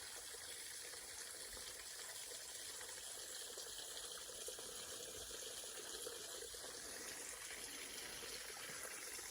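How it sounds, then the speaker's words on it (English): Spring water from a lake flows into a creek and under a highway, a faint, steady rushing wash heard alone at a distance for the whole stretch. "Water goes through and goes under the highway. Listen to the water."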